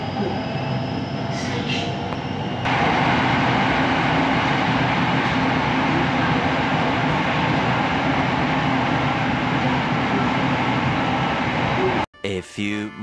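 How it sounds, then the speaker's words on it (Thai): Steady rumble inside a Bangkok SRT Red Line electric train, loud and continuous, with the cabin noise rising a little partway through and a brief drop near the end. "เราอยู่บนรถไฟฟ้าสายสีแดงนะครับรอเวลาออกตอนบ่ายสองโมงสี่สิบห้านะครับผม"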